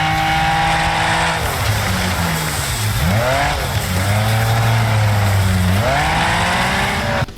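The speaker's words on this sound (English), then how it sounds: "your tires scream on the tarmac surfaces during a drift" Engine revving with tires squealing and screeching on tarmac through repeated drifts in the video game Wreckfest, loud and continuous from start to finish.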